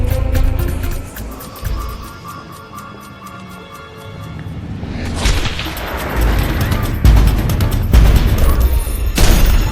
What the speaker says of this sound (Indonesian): sebuah tembakan senapan jarak jauh dari agen yang sama dengan Scott hampir mengenai